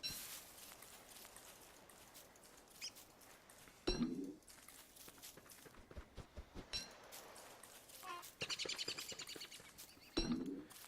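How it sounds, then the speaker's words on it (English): Birds chirping in the video game Don't Starve, small faint chirps and tweets scattered over soft game ambience, with a few louder thumps and rustles breaking in at intervals. "You can actually kill the birds"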